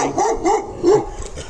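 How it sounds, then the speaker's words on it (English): Stray dog barking outdoors in Goa during the monsoon, three quick separate barks spaced about a third of a second apart, fairly close and clear. "As I said, stray dogs."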